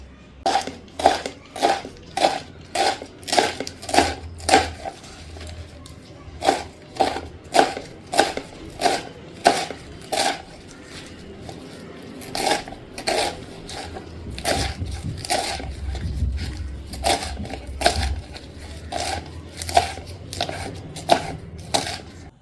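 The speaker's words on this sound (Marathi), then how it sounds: "तर पानं प्रथम आपण चिरून घेऊया." Taro leaves being finely chopped with a knife, a long run of sharp, rhythmic blade thuds on a board, close and fairly loud, with a brief pause midway before the steady chopping resumes.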